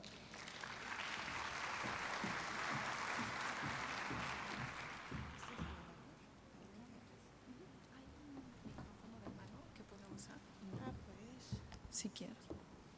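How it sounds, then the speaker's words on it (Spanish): An audience at a medical lecture applauds for several seconds, the clapping swelling and then fading out, followed by quiet murmuring and soft speech. "para quienes pido un fuerte aplauso"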